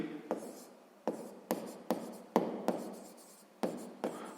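Pen or pencil writing by hand on paper while a sixth-grade math exercise is worked out: about ten quiet, close scratching strokes in an uneven rhythm, with no voice.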